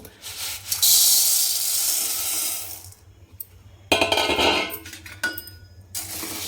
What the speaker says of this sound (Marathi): सगळ्यात अगोदर आपण आता चना डाळ भाजून घेऊ